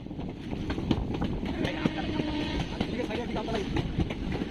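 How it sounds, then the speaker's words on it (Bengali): A Santragachi–Amta up local train rolls along the line, a steady rumble with scattered rail clicks and clatter, moderately distant, with a voice talking over it. "ওই শেষ প্রান্তের লাইনটি আসছে আমতা থেকে আপ সাঁতরাগাছি আমতা লোকাল"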